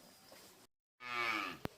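Calves on a village farm moo in one loud, drawn-out call with a rich harmonic stack, preceded by a quieter stretch of farmyard ambience and a short silent gap, ending with a sharp click.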